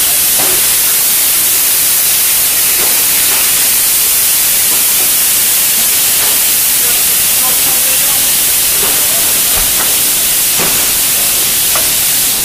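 White wine poured into a hot pan for deglazing after draining the oil while cooking Dover sole, giving a loud, continuous steamy sizzle and hiss, with faint clinks over it.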